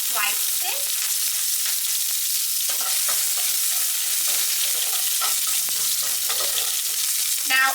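Sliced green chili sizzling and frying in oil on low heat for poha, a steady bright crackle throughout with occasional stirring clicks, close and alone without talk.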